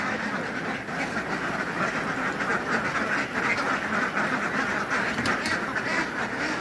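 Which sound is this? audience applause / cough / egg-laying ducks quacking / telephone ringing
egg-laying ducks quacking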